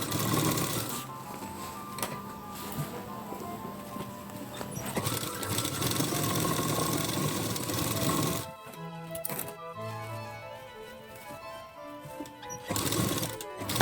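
A sewing machine stitches side tucks on a plain blouse at quarter-inch spacing, a steady fast mechanical whir for several seconds, then pauses with light clicks and handling before briefly starting again.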